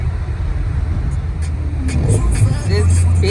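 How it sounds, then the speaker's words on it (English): A big truck slides past a car on a snowy, icy winter road during a storm, its engine rumbling close by and swelling as it draws alongside, with a voice talking over it. "This big old truck almost ran me off the freaking road because it's sliding and it wants to come past me"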